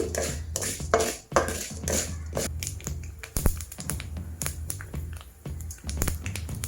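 Urad dal, fenugreek and mustard seeds fry in a little oil for ginger pickle, giving busy close crackles and clinks from the pan with scattered sharp pops and no talking.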